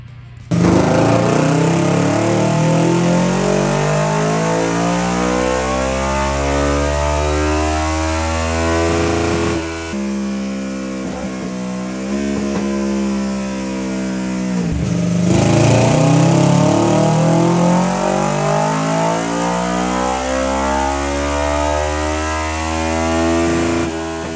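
A remapped Kawasaki Ninja 650 motorcycle engine revs hard and close for a long stretch, its rising and falling tone sustained loud with a brief dip mid-way before climbing again, no talk over it.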